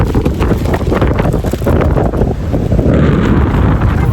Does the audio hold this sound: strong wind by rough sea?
yes